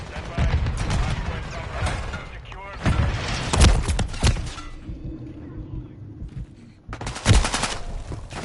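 Rapid automatic gunfire crackles in bursts during a Call of Duty MW3 match on PS5, loud and close, separated by short lulls and mixed with a player's talk.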